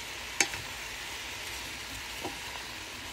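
Vegetables and chicken breast sautéing in a pan, a soft even sizzle with one sharp utensil knock early on and a fainter tap later.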